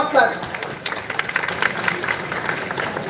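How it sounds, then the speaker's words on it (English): Applause from a conference audience at Google DevFest Mumbai 2025, a brief round of clapping that is loud and close, with speech mixed in. "Round of claps."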